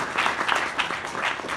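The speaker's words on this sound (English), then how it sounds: "let's give a round of applause to Brian" A short burst of audience applause for a volunteer at a Market America presentation, many hands clapping in a fairly close, even patter with a slight pulsing rhythm and no speech.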